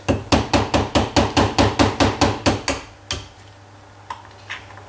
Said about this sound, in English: Again, just a little tap. Don't go mental when tapping this in.